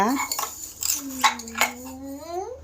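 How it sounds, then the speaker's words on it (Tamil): Metal dishes, pots and utensils clink and clatter in short bursts during dishwashing while a voice speaks nearby. "பாத்திரம் கழுவுறீங்களா"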